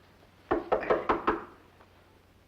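Five quick knocks on a wooden door in a western television drama, sharp and fairly close, falling in an even run over about a second before the room goes quiet.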